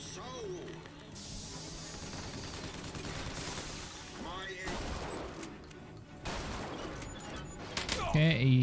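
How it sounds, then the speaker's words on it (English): Gunfire in the video game Bioshock Infinite, a busy spread of shots and bursts with crashing impacts running throughout, loud and dense, with game sounds and voices mixed in. "he did not like me shooting his head off, apparently."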